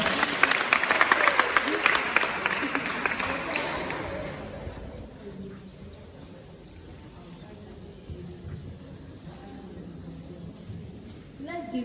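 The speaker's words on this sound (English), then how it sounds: "Let's clap for her." An audience at a menstrual hygiene day event at Kpone Polyclinic applauding a participant, a burst of clapping that fades over a few seconds into quieter room noise with scattered voices.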